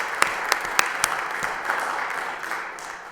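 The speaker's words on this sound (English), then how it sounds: "I want to give you a round of applause" Sparse applause in a city council chamber during a meeting, a few distinct, fairly close hand claps at the start thinning into soft, scattered clapping.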